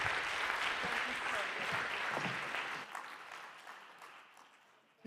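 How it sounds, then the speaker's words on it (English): A conference audience applauds with dense, steady clapping from a crowd in a hall, tapering off over a few seconds to scattered claps and quiet. "Give applause, please, to Nita."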